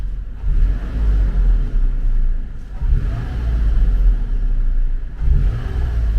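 Toyota 4Runner engine revving under acceleration, a loud, steady low rumble that swells and eases in several pulses, heard close with no talking.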